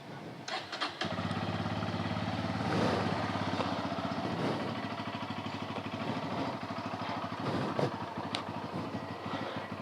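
A motorcycle cold-starts with a short crank and then catches into a steady idle. The engine runs close and loud with an even, throbbing pulse and a slight surge partway through.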